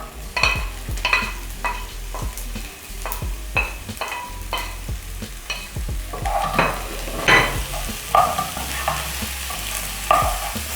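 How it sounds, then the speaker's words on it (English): Chopped onions added to browning pork in a hot pan: a steady sizzle of frying under repeated scraping and clattering stirs from a utensil, close up and moderately loud, with no talking. "So now I'm going to add my onions to the meat."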